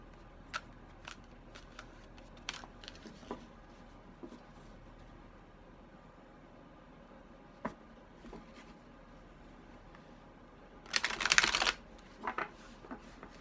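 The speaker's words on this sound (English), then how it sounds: "As always, I shuffle until I feel stop." Tarot cards being handled and tapped quietly for a while, then a loud burst of riffle shuffling near the end, close to the listener.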